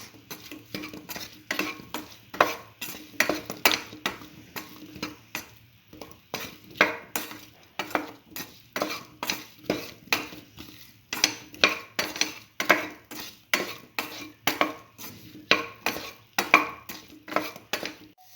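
A utensil scrapes and clinks against a pan again and again in a quick, irregular rhythm while eggplant and bread are stirred for a mint stir fry, with a faint sizzle underneath and no talking.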